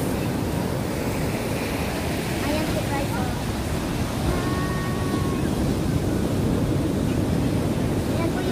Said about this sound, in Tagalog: napakalakas ang alon guys